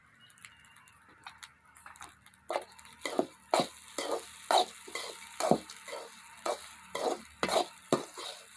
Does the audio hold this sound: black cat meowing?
no